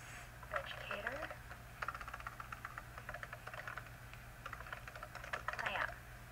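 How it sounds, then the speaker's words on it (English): Fingers tap a computer keyboard while someone types a chat message, producing quick bursts of light clicks separated by short pauses, with a low steady hum underneath and faint voice-like sounds mixed in. "I'm going to type in the chat window"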